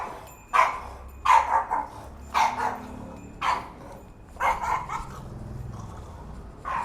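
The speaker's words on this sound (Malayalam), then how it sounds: "പട്ടിയുടെ ദേഷ്യം" Dog barking angrily during a food delivery stop in Thiruvananthapuram, Kerala: six or seven loud, sharp barks at irregular intervals, fairly close, with no talk over them.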